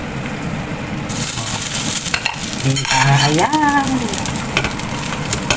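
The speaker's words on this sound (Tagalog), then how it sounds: "So, ipapray po natin siya. Ganyan. Kunti lang po ang oil po." Salmon fishcakes fry in a little oil in a pan over medium heat, giving a close, steady sizzle with scraping and stirring noises, while a voice speaks briefly over the cooking.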